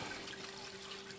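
Water siphons out of a gravel-filled aquaponics grow bed on a solar-powered off-grid system, a continuous soft gurgling rush with a faint steady hum beneath it and no voices.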